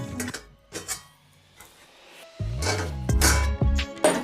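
A lid is lifted off a frying pan cooking egg, giving a few metallic clinks and scrapes before a louder, sustained clatter and sizzle takes over close by.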